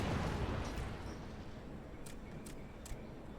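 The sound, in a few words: explosions in the video game Final Fantasy XIV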